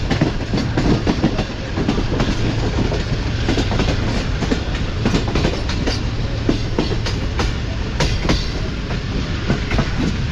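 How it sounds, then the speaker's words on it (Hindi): Karachi Express passenger train running at speed along the track, a loud, continuous rumble with steady clickety-clack from the wheels, heard close from on board. "हमारी ट्रेन काफ़ी अच्छी स्पीड में आगे बढ़ रही है"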